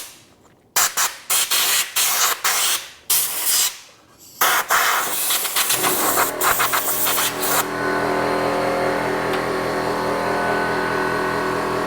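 Compressed air blasts in short sharp bursts while cleaning parts of a Yanmar 1500 engine, followed by a steady, loud continuous hiss of blowing air.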